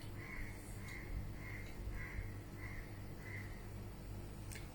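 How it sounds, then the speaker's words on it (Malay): A crow caws outdoors in a run of six evenly spaced calls, faint and somewhat distant over a low background hum. "Dengar bunyi burung kan?"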